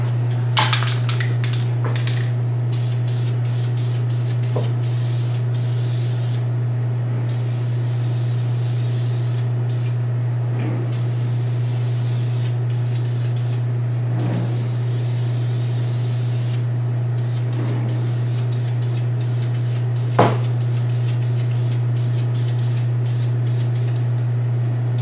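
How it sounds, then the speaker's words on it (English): A spray can coats garage kit resin bust pieces in repeated short hissing bursts with pauses between them, close and steady over a constant low hum, with no talking. "We'll kind of spray this down."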